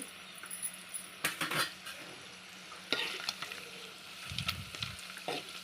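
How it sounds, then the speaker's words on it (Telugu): An egg and chili powder mixture fries in a pan while being stirred, a quiet sizzle under intermittent scraping and clinking of a utensil against the metal, no talk. "ఇప్పుడు ఒక ఐదు నిమిషాలు అలా అలా వేగనివ్వండి"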